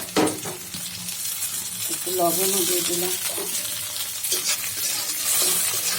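Noodles frying with chilies in a pan: a steady, close sizzle with intermittent scraping and stirring clatter, and a brief spoken remark near the start.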